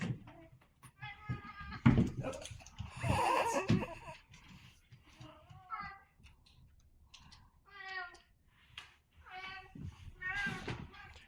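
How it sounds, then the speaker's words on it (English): Two pet cats at an evening snack, with meows and bleat-like cries breaking out repeatedly between soft munching and rustling, close by and moderately loud. "as a treat, you get to see my kitties have a snack"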